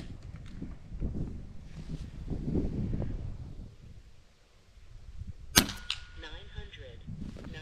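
A single sharp, snapping shot rings out from a Kervan Airboss K1 air rifle fired at 75 yards, preceded by soft rustling and handling noise, with a brief faint ring afterward.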